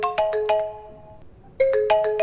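A mobile phone ringtone sounds for an incoming call, a bright repeating melodic chime in two bursts separated by a short pause, clear and close with no talking.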